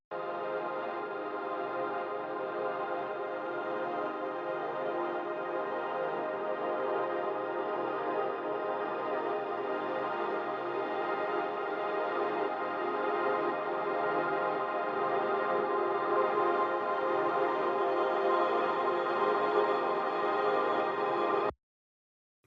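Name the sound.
Butterfly Effect reverb by Soundbetter, Wash Away preset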